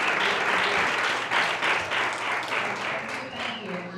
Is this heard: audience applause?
yes